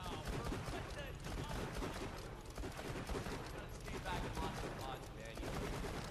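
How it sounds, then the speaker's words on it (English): Rapid continuous gunfire from the Funzerker in Borderlands: The Pre-Sequel, dense automatic bursts over game effects, loud and unbroken throughout. "And we can't even control the shooting. It's just randomly shooting."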